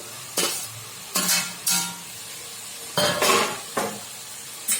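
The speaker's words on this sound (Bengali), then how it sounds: "এখন আমি চিংড়ি মাছটা অ্যাড করছি কেননা ওটা ওর সাথে একটু কষিয়ে নেব" Prawns sautéing in a pan of spiced yogurt gravy, a low steady sizzle broken by several sharp bursts of stirring and scraping from a utensil against the pan, with no talking.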